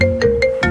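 A mobile phone ringtone for an incoming call, a loud, close electronic melody of four short bright tones in quick succession over a sustained steady pitch.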